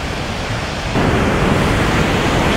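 Steady broadband roar of an Icelandic waterfall, a constant wash of falling water that swells louder about a second in and then holds evenly, with no voices.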